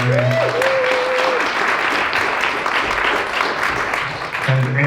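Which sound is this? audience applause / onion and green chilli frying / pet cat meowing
audience applause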